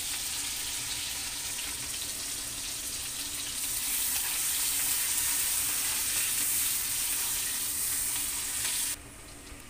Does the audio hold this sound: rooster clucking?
no